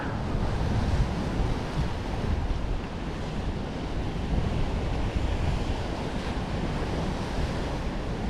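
Ocean waves wash onto a beach near Can Picafort, Mallorca, in winter, with a continuous rolling surf roar and gusting wind buffeting close by, no voices.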